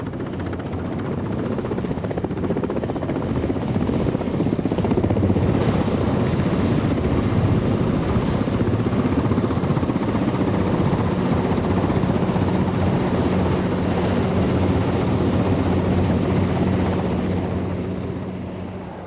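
A Westland Whirlwind helicopter flies with RAF rescue, its rotor and engine forming a loud, steady churning drone that holds for the whole stretch and fades slightly at the end.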